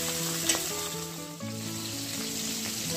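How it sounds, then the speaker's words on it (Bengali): Tilapia fish pieces frying in oil over medium-low heat, a steady close sizzle with a tonal hum and a brief knock, no voices. "মাছের আমি 1 পিসটা ভেজে নিয়েছি, এবার অন্য পিসটা আমি ভেজে নেব"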